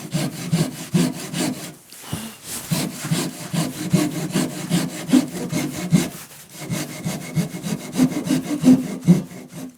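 A Japanese hand saw cuts wood for a tenon in steady back-and-forth rasping strokes, close and loud, with a brief pause near two seconds and again around six.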